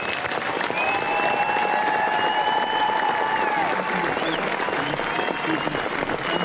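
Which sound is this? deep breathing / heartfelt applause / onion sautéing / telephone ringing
heartfelt applause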